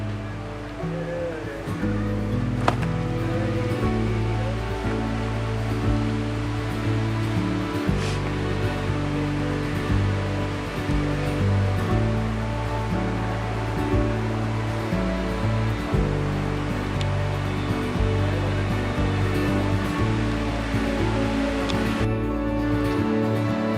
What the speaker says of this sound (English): So this is the trail going towards the waterfall. It's by the name of Rainbow Waterfall